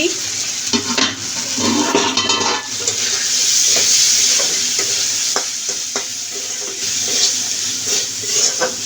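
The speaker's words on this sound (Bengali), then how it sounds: "এখানে আমি বুট ভেজে নিচ্ছি" Chickpeas frying in a pan on a home kitchen stove, a close steady sizzle broken by repeated scraping stirs and light clinks of a utensil against the pan.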